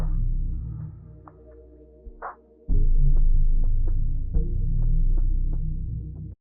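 A beat switch into two chords and a drum loop pitched down an octave: a low, dense bass pad holds steady while soft, evenly spaced drum hits tick through it, following a quieter passage and a short rising swell.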